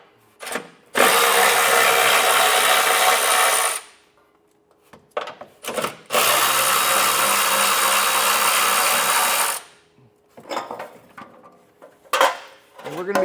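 A power tool spins off 10mm nuts holding a heat shield on a 2024 Toyota Camry, two long, loud whirring runs of a few seconds each, separated by quieter metallic clinks and handling noise.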